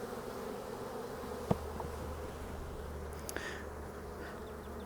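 A dense, steady hum of many honeybees buzzing close by, with a couple of faint clicks and knocks.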